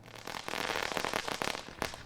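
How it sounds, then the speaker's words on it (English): A rapid string of firecrackers crackles and pops continuously, loud and dense, marking the start of a race run from a driveway on the Fourth of July. "Firecrackers signaled the start of the race, and they were on their way."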